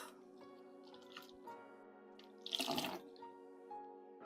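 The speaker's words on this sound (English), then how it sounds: "So we are going to use the warm water to rinse off our body." Warm water from a tap runs and drips while skin is rinsed off after a body scrub, a steady trickle with a louder splashing burst near the middle.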